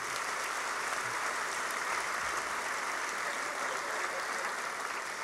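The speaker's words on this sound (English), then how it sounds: "So give yourselves a round of applause for being here tonight" A room of high school athletes at an evening sports awards ceremony applauds, a fairly faint but continuous bed of clapping without pause from start to finish.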